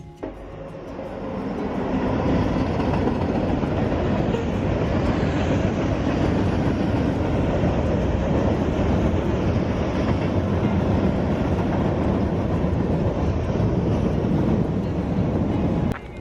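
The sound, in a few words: train passing under tracks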